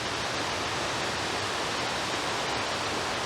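The Ollerelv main cascades, a waterfall swollen by spring melt, produce a dense, unbroken roar of rushing water, steady and full with no other sounds.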